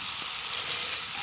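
Fish frying in butter in a pan at a wilderness campsite, a steady close crackling sizzle with fine spattering throughout, no voices.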